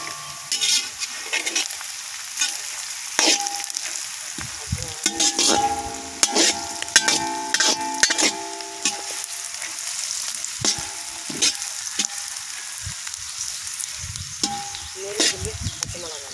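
Green chillies frying in a pan for a spicy egg pepper fry, crackling and popping in sharp irregular bursts over a steady close sizzle, with scraping stirs throughout and no talk.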